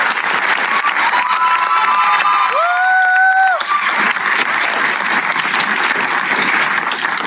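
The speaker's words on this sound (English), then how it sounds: "let's give a round of applause to Tempestt" A crowd at a talent show gives loud, sustained applause with scattered cheering, a thick wash of clapping throughout, and a brief whistle-like tone rising above it near the middle.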